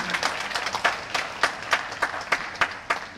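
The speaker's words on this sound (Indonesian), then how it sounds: "mari kita beri tepuk tangan yang meriah untuk seluruh wisudawan" Applause breaks out for graduating pupils at a primary school graduation ceremony, with a crowd clapping steadily and fairly close, sharp irregular claps standing out from the mass over several seconds.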